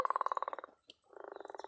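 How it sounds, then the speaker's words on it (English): A leopard frog gives a rapid snoring croak, a fast pulsing rattle, pauses briefly, then repeats the stuttering call, close and clear. "And the leopard frog sounds like this."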